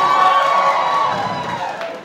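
A live comedy show audience in Dubai cheers and claps in a brief, loud burst of mixed shouts and applause that fades toward the end.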